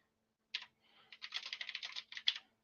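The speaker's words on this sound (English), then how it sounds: "I can't type and talk at the same time." Fingers typing on a computer keyboard in a quiet room, a single tap followed by a quick, fairly even run of soft clicking keystrokes, close and unaccompanied by speech.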